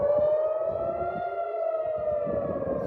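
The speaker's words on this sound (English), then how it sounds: "red alert sirens were sounded throughout the city" Red alert air raid sirens wail steadily across Tel Aviv during an incoming missile attack, a sustained rising-and-falling siren tone that stays loud from start to finish, with no voices over it.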